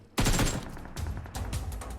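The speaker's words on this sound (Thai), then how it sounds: "เหมือนเขายิงใครอยู่" Gunfire in PUBG Mobile: a loud, sudden burst of rapid shots, then several more clustered volleys crackling in quick succession, with no talk.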